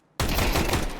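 Gunfire in Counter-Strike 2: a sudden loud burst of rapid automatic rifle shots starting after a brief silence, sustained and close, with no voices over it.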